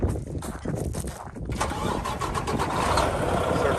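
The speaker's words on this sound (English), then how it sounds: "He'll fire it up," A 2013 Mack Pinnacle CHU613 truck's diesel engine cranks briefly, then catches and settles into a loud, rough, rumbling idle close by.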